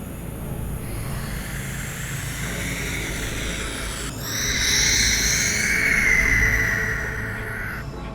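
An adult barn owl gives a long, raspy threat hiss-screech, swelling louder midway and holding as a harsh, breathy rasp before fading.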